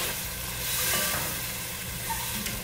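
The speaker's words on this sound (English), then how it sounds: "We're gonna add in our diced tomatoes." Diced tomatoes hit butter in a pan on medium-low heat for an easy pasta dish, giving a steady close sizzle and frying hiss with a few stirring scrapes, no talking.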